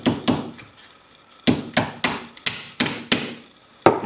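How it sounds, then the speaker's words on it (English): Gentle taps on a piece of a laser-cut card box to seat its rotation latch, about a dozen sharp close knocks in uneven pairs and clusters with brief pauses between. "and then gently tap on this piece."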